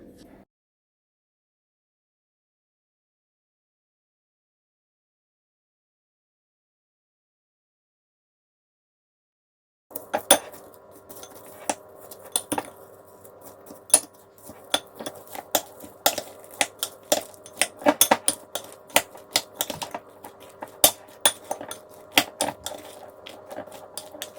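Peanuts mixed into batter in a bowl for air frying, heard after a long silence as steady scraping with irregular clicks and taps, close and moderately loud.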